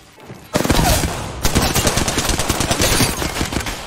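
Rapid-fire gun shooting in a video game, a loud dense burst of shots after a short pause, then a longer steady rattle of fast rounds, close and continuous.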